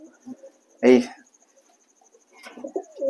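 A pigeon kept for egg laying, with a paralysed leg, gives a few soft close coos separated by quiet gaps, alongside a brief voice.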